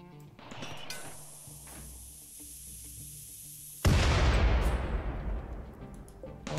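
Video game turrets open fire in a sudden loud burst of rapid gunfire that continues to the end, following a quieter stretch of hissing ambience.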